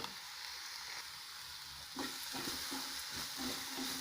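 Masala mixture frying and being stirred in a hot pan for masala puri, a steady close sizzle with scraping stir strokes that grow busier partway through; no talking.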